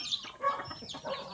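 Jersey Giant chickens cluck softly in short, scattered bursts, faint and close, with no other sounds competing.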